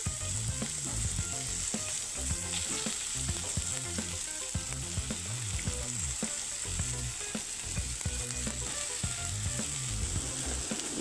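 Vegetable noodles frying and being tossed in a pan, a loud continuous sizzle with rhythmic scraping and clattering stir strokes throughout, close up and uninterrupted by talk.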